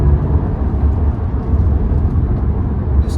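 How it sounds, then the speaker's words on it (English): A BMW 330Li Gran Limousine with a 260 bhp twin-turbo engine accelerates through a paddle-shifted third gear, giving a steady, loud, low rumbling exhaust drone heard from inside the car, with no voices. "you can hear the exhaust note"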